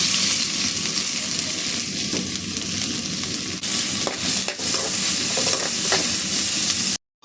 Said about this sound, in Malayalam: എണ്ണ ചൂടായി നമ്മൾ ഈ സവാള ഇട്ട് കൊടുക്കാം